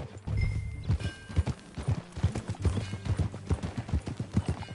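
Horse hooves clip-clop in a rapid, irregular galloping rhythm in the Red Dead Redemption 2 video game, close and clear with no talk over them.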